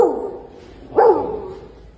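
A person imitates a dog with the voice, giving a single loud, close vocal bark that fades into a short trailing whine, with no other sounds.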